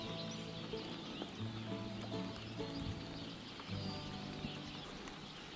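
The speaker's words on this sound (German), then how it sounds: "Direkt dahinter war ein wahres Vogelkonzert zu hören." Many songbirds, yellowhammers and linnets among them, sing together in a hedgerow on a foggy day, a dense, continuous chorus of overlapping chirps and trills heard at moderate distance under steady background hiss.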